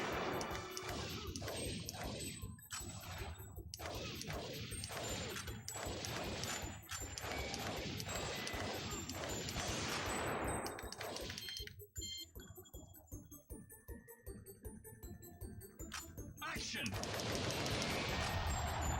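Rapid bursts of gunfire and crashing barrel explosions from a PlayStation 2 light gun shooting game, loud and dense, with brief lulls between volleys and a voice talking faintly at times.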